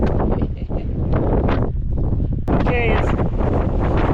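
Strong gusts buffet the microphone on a Grand Canyon trail just below Skeleton Point, a loud, rumbling roar that runs throughout while a hiker speaks briefly.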